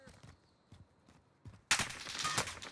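Call of Duty: Warzone gunfire: a few faint taps and footsteps, then a sudden loud burst of rapid shots that keeps firing to the end.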